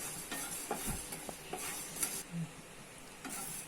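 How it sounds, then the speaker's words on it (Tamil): Whole spices for a Tamil-style chicken pickle are dry roasted in a pan and stirred, giving light scraping strokes and a soft, steady sizzle that carry on alone at low volume. "அதுக்காக தான் நம்ம இதை இப்போ சூடு பண்ணி வறுக்கிறோம்."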